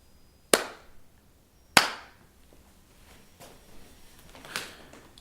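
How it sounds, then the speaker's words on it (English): Two sharp, loud hand claps, used to synchronize camera and audio recordings, ring out about a second apart, followed by a fainter clap-like tap in an otherwise quiet room. "So when I hear the clap, I know to start both at the same time."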